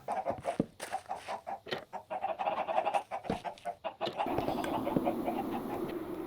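Chickens cluck and squawk on a chicken farm in the Minecraft video game, a busy run of short overlapping clucks at moderate loudness with no voices; a steadier background hiss comes in partway through.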